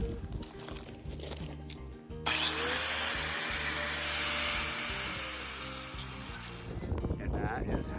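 A Dewalt angle grinder fitted with a fresh cutting wheel spins up abruptly and runs with a loud, steady high whine for several seconds, then begins to wind down. Some handling noise comes before it starts.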